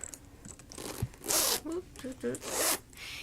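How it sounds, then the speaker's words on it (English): Zippers on a Celine Large Trio bag's separate pouches are pulled open in a few short, close rasps, mixed with soft handling noise and a person talking. "So you've got the 3 zippers at the top. Each one opens separately."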